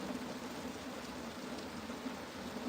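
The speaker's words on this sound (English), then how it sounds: "it's raining more." Steady rain falls, making a soft, continuous hiss with faint patters that sounds somewhat distant and stays even throughout, with no talking.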